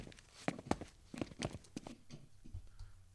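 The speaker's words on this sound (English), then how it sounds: "they have footsteps" Library footsteps sound effect, a quick series of distinct, fairly close steps in an uneven walking rhythm, played back quietly on its own.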